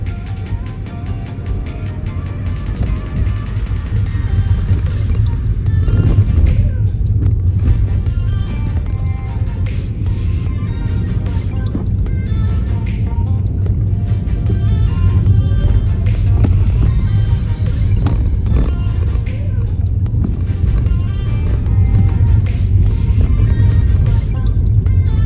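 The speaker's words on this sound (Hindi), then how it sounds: "यहाँ देखो हमारे यहाँ पे इतना ट्रैफिक होता है।" Busy city road traffic heard around a Tata Tiago petrol hatchback being driven in town, a steady loud rumble of engines and tyres with passing vehicles blending into one continuous wash, with no talking.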